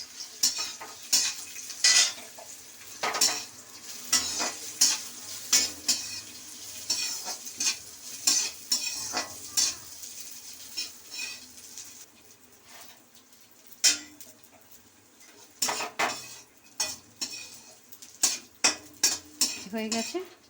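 Raisins are fried lightly in ghee in a pan while Bengali basanti polao is cooked, with a low sizzle under repeated scrapes and clinks of a spatula against the metal, irregular and close, and a few louder knocks near the end.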